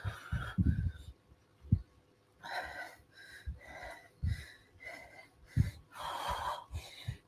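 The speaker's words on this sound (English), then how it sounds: "I'm out of breath because I've got asthma." Heavy, labored breaths in and out from an asthmatic cyclist, with wheezy rasping and a few short gasps, close and fairly quiet, no talking.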